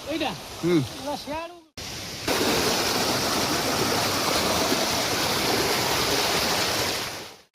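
Gundicha Ghagi waterfall pours over rocks in a dense, constant roar that stays close and steady. A voice speaks briefly at the start before the rushing water takes over.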